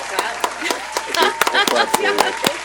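A single person on a podcast claps alone, a run of about ten sharp, separate claps spread irregularly over a few seconds, mixed with a talking voice.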